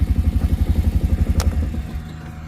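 A four-wheeler engine idles with a steady, throbbing low pulse, close and fairly loud, then cuts off about two seconds in, leaving a quiet outdoor background.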